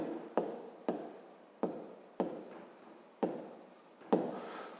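A pen or chalk writes by hand during a fifth-grade geometry lesson, a series of about seven short scratchy strokes, each starting with a sharp tap and fading, close and fairly quiet with no talk.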